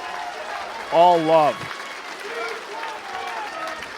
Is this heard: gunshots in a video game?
no